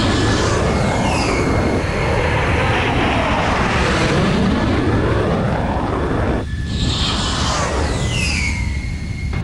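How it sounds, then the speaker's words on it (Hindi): Indian Air Force fighter jets roar at a forward air base near the border with China, loud and close, with the pitch sweeping as they pass and a second pass building near the end. "वायुसेना ने इस इलाके में कई लड़ाकू विमानों को तैनात कर दिया है।"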